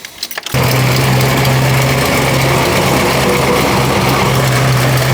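A truck engine fires up after a turbo swap and settles into a loud, steady idle right after a short cranking burst, with no talk.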